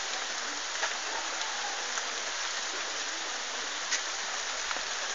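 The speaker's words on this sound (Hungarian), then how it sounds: "Esik az eső, esik az eső." Steady light rain falls outdoors while rainwater pours into a barrel, a constant close hiss of water with a few faint drips and no voices.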